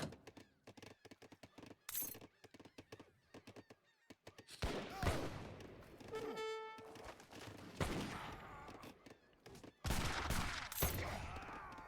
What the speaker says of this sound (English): now, of course, you can see the rocket spam begins